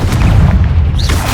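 Confringo explosion spell going off in Hogwarts Legacy, a loud, deep, rumbling boom that fills the whole moment with sustained low-end force and no voice over it.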